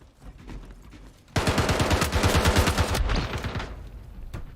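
Star Citizen gunfire erupts after a quiet stretch: a loud, close burst of rapid automatic shots lasting about two seconds, then trailing battle noise and one last sharp shot near the end.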